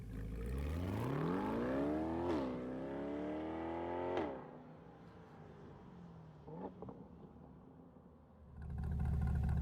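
Mid-engine C8 Corvette fitted with a Hooker Black Heart catback exhaust, revving hard through rising gear pulls with sharp shifts, then dropping to a lower burble before another loud pull starts near the end.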